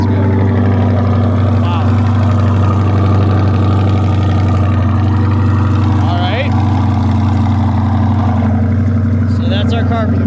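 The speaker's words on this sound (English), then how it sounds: "What is that exhaust? That sounds good." A Chevrolet C8 Corvette's exhaust idles just after starting, a loud, steady, deep rumble that continues throughout while someone speaks briefly over it.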